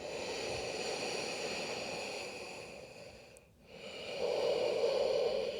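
Steady breathing during a yoga class, a long airy exhale fading into a brief pause, then a fuller, louder inhale drawn through the nose, close and without speech.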